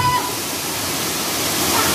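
The roar of Dara Falls on an adventure tour, a dense and steady rush of falling water heard close and loud, unbroken and with no voices.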